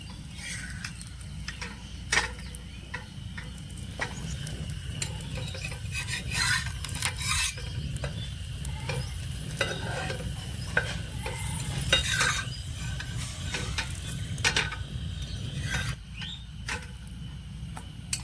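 Semolina sandesh fries gently in ghee in a pan, with a steady low sizzle under frequent scraping and clicking as a spatula turns the pieces. The sounds stay close and fairly soft, and no one speaks.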